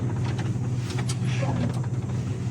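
A Class B truck idles with a steady low engine hum, and faint mechanical clicks and a brief hiss suggest it creeping forward and braking during an in-cab pretrip inspection.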